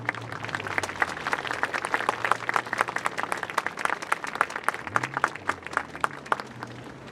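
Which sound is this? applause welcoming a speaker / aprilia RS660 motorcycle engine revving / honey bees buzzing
applause welcoming a speaker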